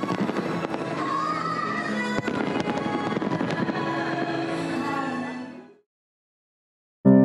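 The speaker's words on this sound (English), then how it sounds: "a spectacle as the fireworks continue to go off." Fireworks going off during the Republican National Convention, a dense, continuous crackle of bursts and pops that cuts off abruptly near the end, with no talking.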